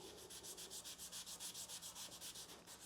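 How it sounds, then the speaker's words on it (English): A red scuff pad rubbing over polyester body filler in quick, even back-and-forth strokes, a steady rhythmic hiss, close and fairly quiet. "I'm going to do a red scuff pad and scuff the surface"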